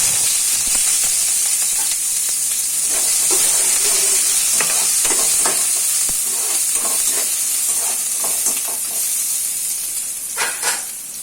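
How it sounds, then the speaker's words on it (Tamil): Onions dropped into hot oil for semiya kichadi hiss in a loud, continuous sizzle with bright crackling spatter. Stirring scrapes come and go, and the sizzle eases slightly near the end with no voices. "ஆயில் நல்லா ஹீட் ஆனதுக்கப்புறம் அதில் வெங்காயத்தை சேர்த்துக்கிறேன்."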